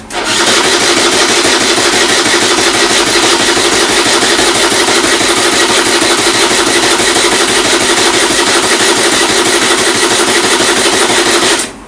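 A Honda Fit engine starts up and runs, giving a loud, steady, close mechanical rumble with a raspy edge that holds on without a break for about twelve seconds and then stops abruptly.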